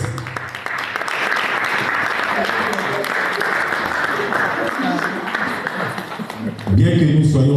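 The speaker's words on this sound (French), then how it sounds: "celle-là, vous devez l'applaudir très fort" Loud, sustained audience applause at an artists' award ceremony in Germany, dense clapping filling the room evenly before swelling briefly near the end.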